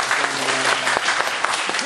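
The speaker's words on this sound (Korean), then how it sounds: "우리 하나님께 영광의 박수 올리겠습니다." A church congregation applauds during a Sunday daytime worship service, a dense steady roar of many hands clapping together, with a few voices underneath.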